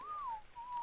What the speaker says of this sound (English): I know the whistling's pretty awful